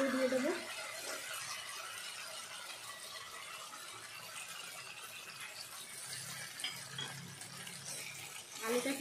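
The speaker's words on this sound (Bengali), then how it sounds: "এবার আমি এর মধ্যে আলুগুলো দিয়ে দেবো।" Potatoes drop into hot oil and spices in a pan, setting off a close, continuous hissing sizzle with a sharper burst at the start and near the end.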